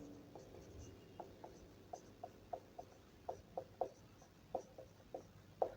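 A pen scratches out equations on paper for a Class 10 maths lesson, a series of short, quiet scratchy strokes in an irregular rhythm, close up, with no talking.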